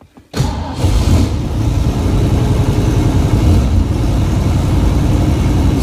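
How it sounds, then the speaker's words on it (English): A 1972 Ford Maverick Grabber cold-starts with a short crank, then catches and settles into a steady, loud, rumbling fast idle that runs unbroken close to the microphone. "I'm going to start this video out by doing a cold engine start"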